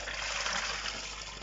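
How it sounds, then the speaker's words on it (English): Water gushes from a fish bag into a handheld aquarium net, a steady close splashing pour lasting the whole moment with no talking. "pour it straight into the net"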